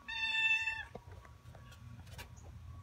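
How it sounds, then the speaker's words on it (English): A cat gives one short, loud, close meow, followed by faint shuffling and rustling in a quiet room. "massive meowing."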